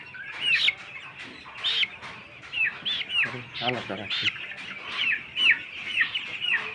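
A chicken gives a steady run of short, repeated clucking calls close by, with brief human talk mixed in partway through.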